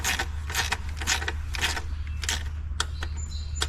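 A torque wrench tightens valve cover bolts on a Kia Soul engine, giving a series of close, rhythmic ratcheting clicks over a steady low hum, finishing with a few sharper metallic clicks.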